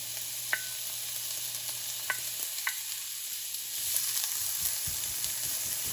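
Onion hits a pan of browned garlic and fries, a steady close sizzle with a few sharp clicks of utensils, the hiss swelling louder partway through as stirring begins.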